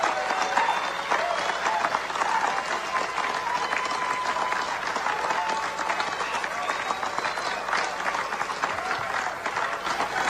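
A large crowd applauds at the 2018 U.S. Merchant Marine Academy graduation ceremony: a loud, dense, unbroken roar of clapping sustained for ten seconds, with crowd murmur mixed in.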